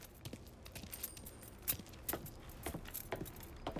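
Car keys jangling in the video game Mafia 3, a run of light metallic clinks and rattles at an irregular rhythm, fairly close but quiet.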